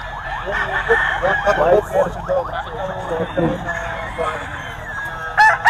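White Kelso gamecock rooster at a crowded cockfighting-rooster market, clucking and a strained crow-like call, near, with someone talking over it and a busy background.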